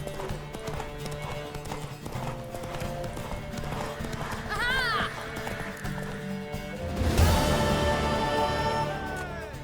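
Galloping horse hooves in a race in The Witcher 3, rapid rhythmic clip-clop throughout with a neigh midway, under game music and voices, growing louder toward the end.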